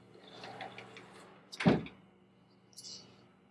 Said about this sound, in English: So there we have the pocket door.